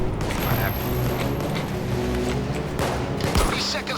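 A Bulldozer enemy fires in PAYDAY 2, with a continuous stream of rapid game gunfire and booms filling the clip while a player talks excitedly over it.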